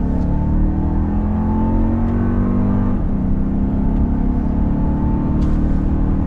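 A 2024 Toyota Grand Highlander Hybrid Max accelerates hard, heard from inside the cabin as a loud, sustained engine drone and road rumble that rises steadily without a break.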